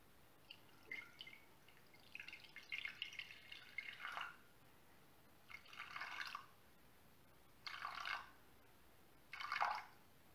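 Water is poured in several short, faint bursts from a container onto butter in a pot for eclair choux dough, each pour trickling and splashing briefly, with quiet pauses between and no talking.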